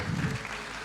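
A conference audience claps together in one brief, dense burst, fairly close and steady, with no talk over it.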